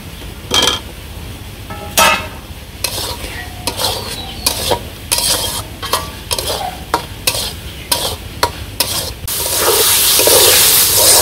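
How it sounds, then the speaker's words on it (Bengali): Raw potato pieces are stirred with spices in a hot pan for a village-style young jackfruit curry. A spatula scrapes in repeated strokes over a constant sizzle, which swells into a louder hiss near the end. "তো মশলার সাথে আলুটাও একটু কিছুক্ষণ কষিয়ে নিলাম"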